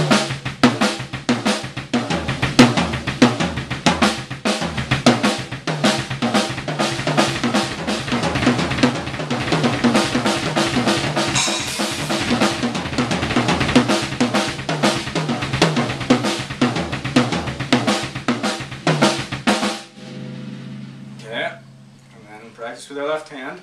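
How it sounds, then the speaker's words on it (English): Drum kit pattern cycling through kick drum, snare and rack tom, dense and loud with rapid continuous hits for about twenty seconds, then a quieter tail. "we could say do kick drum, snare, rack tom, or kick drum, rack tom, snare"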